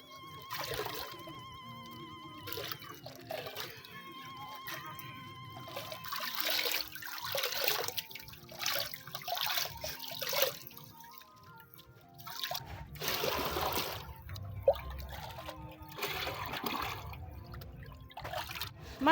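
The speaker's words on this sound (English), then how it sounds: "it has to be completely sieved and then poured inside the pan" Liquid trickles and pours through a net sieve into a pan, with uneven splashing and dribbling bursts that come and go, fairly quiet and close, alongside faint background noise.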